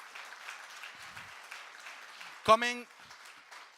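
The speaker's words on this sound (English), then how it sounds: "Big applause, please." Audience applause at a responsible-trade conference, a steady, moderately faint patter of clapping throughout, briefly interrupted by a man's short spoken word in the middle.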